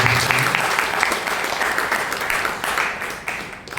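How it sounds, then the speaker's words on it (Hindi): Loud, dense audience applause fills a shayari poetry gathering after a couplet is recited, steady and close throughout with no voices over it. "जोरदार तालियां"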